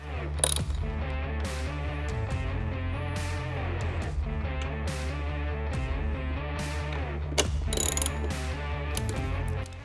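A ratchet turning a 13mm socket to tighten headlight mounting bolts set inside the fairing of a 2023.5-on Harley Road Glide, clicking steadily and closely in continuous runs with a few sharper knocks.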